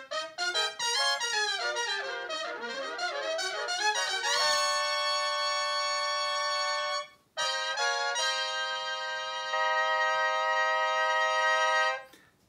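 Stacked trumpets, all parts recorded by one player, sound closed-voiced major sixth chords in bright sustained blasts, with a busy run of moving notes first and then long held chords, each broken off by a brief cutoff.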